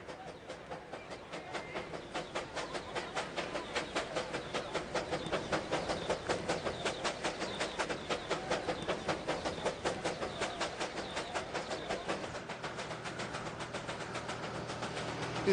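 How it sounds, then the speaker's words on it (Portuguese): A Darjeeling Himalayan Railway train pulls out of Siliguri station, wheels clicking over rail joints in a steady quickening rhythm, with hiss and a rolling rumble throughout. "o trem sai da estação de Siliguri."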